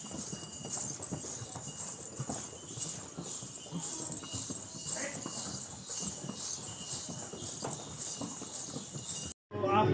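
Horses walk up the steep Hathi Matha climb of the Vaishno Devi uphill trail, steady clip-clop of hooves under continuous voices and crowd chatter, a constant bright hiss above, ending in a brief dropout.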